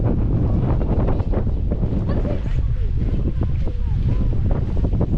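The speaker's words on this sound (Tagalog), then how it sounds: "Lakas ng hangin." Strong wind buffets the microphone in a constant roar on Caramoan Island, Camarines Sur, with faint voices and splashing beneath it.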